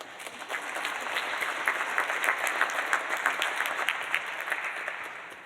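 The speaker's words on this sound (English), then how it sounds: "give yourself a round of applause." An audience at a legislative session conference closing applauds in a dense, continuous wash of claps, holding at a steady, fairly loud level for the whole stretch.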